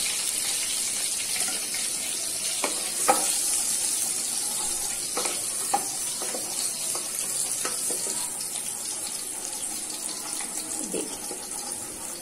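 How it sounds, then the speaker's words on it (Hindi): Onions frying in hot oil for a Hyderabadi kofta curry, giving a steady hiss with scattered small pops and crackles throughout, close and moderately quiet, with no talking. "देखो तेल गरम हो गया, अपन अब इसमें प्याज को थोड़ा तलेंगे।"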